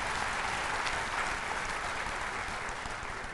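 Sustained applause from a large audience at a national government event in Vigyan Bhawan, Delhi, a dense continuous clapping that fills the whole stretch at moderate distance, without pause or talk.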